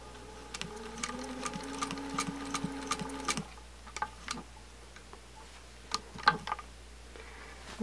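Sewing machine stitching curved quilt seams in batik fabric with a quarter-inch foot, running in a steady rapid whir for about three seconds, then short bursts of stitching with soft clicks and handling noises between them.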